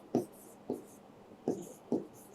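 Chalk or marker writing on a board during a chemistry lesson, with four short separate scratchy strokes at an uneven pace, close and fairly clear, and no voice over them.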